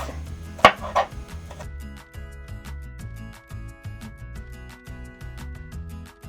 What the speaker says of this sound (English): We start with the garlic. Make small pieces.